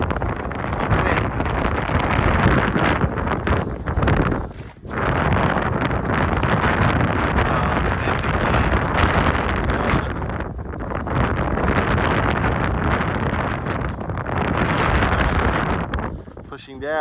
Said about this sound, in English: we're getting a northerly gust of wind